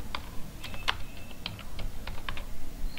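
Fingers typing on a computer keyboard while writing in MS Word, a close, irregular patter of crisp key clicks over a few seconds with a light background hiss.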